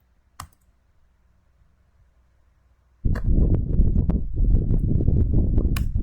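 Rapid, steady clicking of computer keyboard keys as IPv6 configuration commands are entered, close and continuous after a single early click and about three seconds of near silence.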